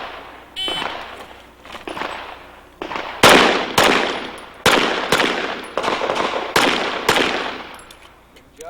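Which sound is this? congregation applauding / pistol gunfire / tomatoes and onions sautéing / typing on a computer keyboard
pistol gunfire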